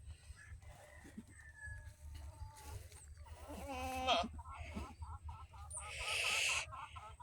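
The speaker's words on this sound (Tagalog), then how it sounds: "Yung kambing." Goats bleat on a farm where a goat has just given birth, several calls rising over a constant low hum, with a rooster and chickens also sounding nearby; no talk.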